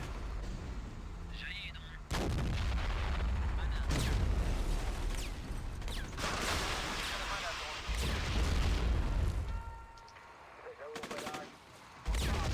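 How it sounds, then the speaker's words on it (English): Tank cannon fire against a building in the Modern Warfare video game, Bloody Sands campaign at Tiyas Airbase: repeated loud, booming blasts with rumbling decay and dense gunfire in between, continuing throughout. "Still trying to destroy that building with a tank"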